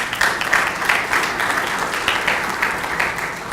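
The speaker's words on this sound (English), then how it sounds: "Let's give him a round of applause." Attendees at a public transportation planning workshop give a warm round of applause, a moderate crowd clapping steadily with slight swells in intensity.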